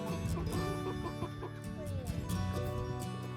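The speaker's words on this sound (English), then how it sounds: "You're good chickens." Chickens cluck and chatter continuously at a farm homestead, several birds calling over one another in a busy, constant stream. The level is moderate.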